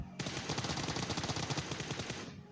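Rapid automatic gunfire from an M416 rifle in the battle royale game PUBG, a steady fast burst of shots running without pause for over two seconds, close and loud with no talking.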